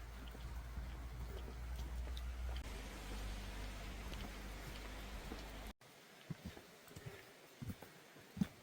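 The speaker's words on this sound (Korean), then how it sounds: "찻길로 접속을 하는데 비가 제법 내립니다" Steady rain falls during a mountain hike near a roadside path, a dense hiss that holds for nearly six seconds, then cuts to quieter rain with scattered nearer drops and patters.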